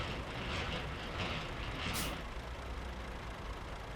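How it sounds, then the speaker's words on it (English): Air brake hiss from a truck's handbrake in Euro Truck Simulator 2, a short sharp burst of escaping air near the middle over a steady broadband engine and road wash, with no talking. "Handbrake on."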